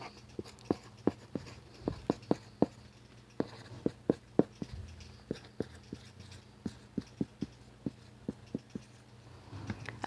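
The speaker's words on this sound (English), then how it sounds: "which I'm going to write here" Pen scratching and tapping across paper in short, irregular strokes, close and quiet, alone with no talking.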